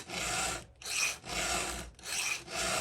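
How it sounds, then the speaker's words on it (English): A hand file rasps against the tooth of a new chainsaw chain in steady back-and-forth strokes, close and continuous with brief gaps between passes. "I just put the file in there up against the tooth."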